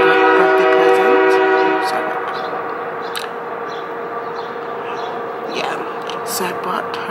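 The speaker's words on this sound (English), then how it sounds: "we were just rudely interrupted by the train" A passing train sounds its horn in a long steady blast, then rumbles and clatters by nearby with scattered metallic squeals; a voice talks over parts of it.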